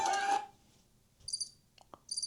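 Cricket chirps from a soundboard sound effect, short bursts of high, trilling chirps repeating twice after a brief louder noise at the start, clear with no talk.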